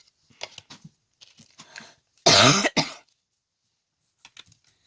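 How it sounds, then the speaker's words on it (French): Two harsh, loud coughs burst out close by, preceded by faint rustling and small scattered noises, then quiet. "Je suis désolée si ça vous dérange que je tousse"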